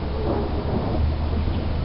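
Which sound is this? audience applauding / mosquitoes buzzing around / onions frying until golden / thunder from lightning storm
thunder from lightning storm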